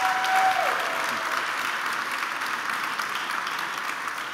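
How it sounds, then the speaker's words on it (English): A crowd claps warmly to welcome a speaker onto the stage, a dense and even round of applause that fades slightly toward the end. "Let's give him a huge round of applause."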